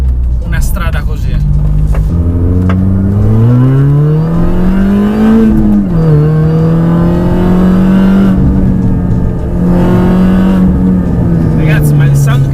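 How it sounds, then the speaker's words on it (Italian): An R53 Mini Cooper S with a supercharged 1600 engine pulls hard from close range in a loud, gritty exhaust roar, rising and falling through the revs, with the supercharger's whine on top and a voice talking over it. "il sound che fa questo piccolo 1600 è un qualcosa di meraviglioso, così corposo e grintoso e misto al sibilo che fa il compressore volumetrico"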